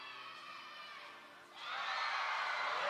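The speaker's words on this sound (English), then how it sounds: "You can hear the crowd. They loved it." Crowd in a gymnastics arena at a college meet, Cal at BYU, swelling into broad cheering and shouts after a bars dismount, a steady roar that rises halfway through and stays loud.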